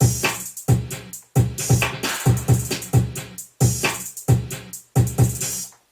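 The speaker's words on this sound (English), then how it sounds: "I recorded the drum pattern that sounds like this." An MPC beat built from drum samples: punchy kicks, snares and hi-hats loop in a steady, tight groove, loud and close, with brief gaps between the repeating bars.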